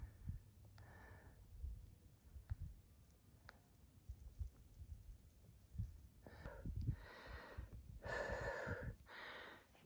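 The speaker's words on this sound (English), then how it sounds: "Breathing is getting harder." A hiker climbing uphill on the Appalachian Trail breathes heavily and rhythmically close to the microphone, with rustling and scuffing, the breaths growing louder toward the end.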